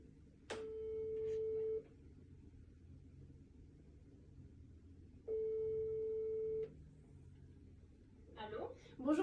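Two long electronic telephone ring tones sound while a call is placed to a company, each lasting over a second with a pause between them, followed by a brief burst of voice at the end.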